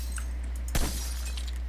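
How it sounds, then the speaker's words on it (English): Glass shattering after being shot in a video game: one sharp crash midway, bright and brief, with a short tinkling tail over a low steady hum, and no voices. "I'm gonna shoot that glass."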